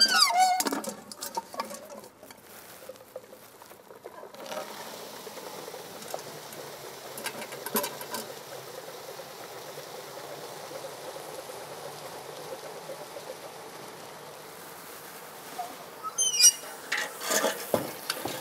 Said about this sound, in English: you're going to go ahead and pour that in here